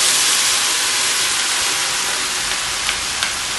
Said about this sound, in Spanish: Y es donde vamos a sofreír todos nuestros vegetales